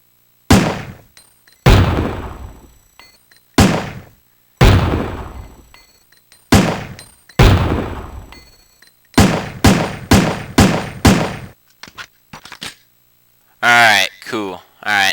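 SIG Pro SP 2009 9mm handgun firing in the Resident Evil 3: Nemesis video game, a dozen sharp loud shots with echoing tails, spaced at first and then in a quicker burst, followed by a short mechanical rattle.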